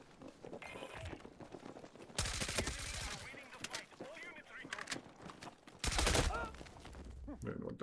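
Battlefield 6 gunfight with a VSSM rifle: two loud bursts of rapid game gunfire crack out close, between stretches of quieter in-game shooting and a voice talking over the action.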